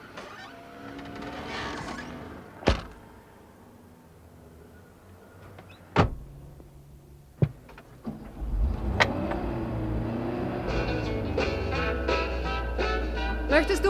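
A car in a German radio drama pulls away after doors thump shut, its engine rising to a steady, close drone through the second half. Faint background sounds come before it, and no one speaks.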